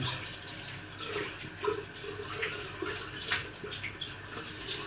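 A sink tap runs while a grater used for carrots is rinsed, a steady close flow broken by small splashes and knocks of the grater under the stream.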